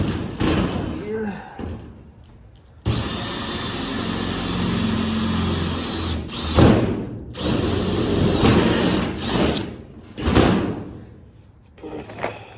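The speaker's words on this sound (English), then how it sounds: "Let's go and drill another hole" A power drill whirs loudly in several bursts, spinning up and down, with a voice speaking between the runs.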